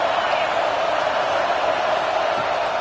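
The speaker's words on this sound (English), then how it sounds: "how nice is it to have the home crowd going absolutely bananas" A home crowd at a football game roars in a steady, dense wash of cheering noise, fairly loud and continuous throughout.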